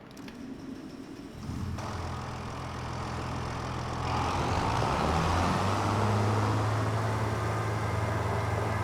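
An old Challenger tractor engine starts and idles in the Farming Simulator 25 game, a low steady rumble that swells and grows louder midway and then holds a droning, near idle with no talking.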